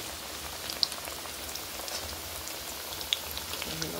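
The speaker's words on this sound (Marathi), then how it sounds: "एक एक एक एक करून आपण तळून घेऊया." Aloo tikki frying in very hot oil, a soft, continuous bubbling crackle with a few sharp spits and pops, heard close and fairly faint with no talking.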